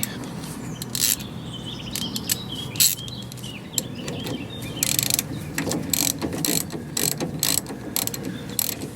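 A wrench ratchets in quick clicking bursts, loosening an 11/16 bolt on the rear suspension of an MGA 1600 under restoration, with short pauses between the runs of clicks and faint chirps in the background.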